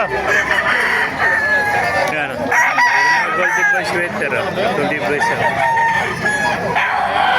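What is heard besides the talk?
roosters crowing at a chicken market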